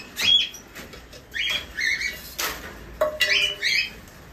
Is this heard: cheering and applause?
no